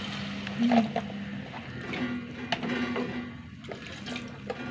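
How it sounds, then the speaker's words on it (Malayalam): Water pouring and splashing into a pan nearby, a continuous liquid rush with a few clinks, no talking. "ഇനി വെള്ളം ഒഴിച്ച് കൊടുക്കുക"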